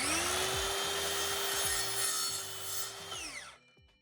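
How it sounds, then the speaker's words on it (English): A power saw whines through a wooden cleat for a shelf in one continuous close cut, then the blade spins down and stops near the end. "So now I'm cutting the first cleat, which is at the right height."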